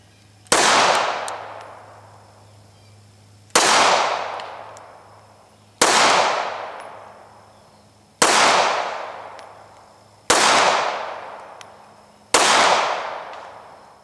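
Six sharp, loud shots from a Ruger LCP pistol crack out at steady intervals of roughly two to three seconds, each ringing off into a short fading echo.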